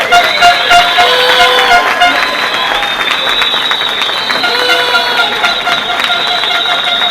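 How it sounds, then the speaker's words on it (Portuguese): A large crowd applauds the graduates at a graduation ceremony, dense sustained clapping with scattered cheers, loud and close, while a steady bright tonal whine rings over the top throughout. "A todos os vitoriosos, mais uma vez uma salva de palmas"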